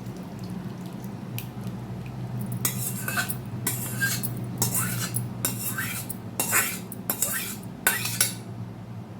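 Cooked tamarind chutney, simmered about ten minutes in a kadai, strained with a utensil, giving repeated scraping and clinking strokes of metal on a strainer over a steady low background hum.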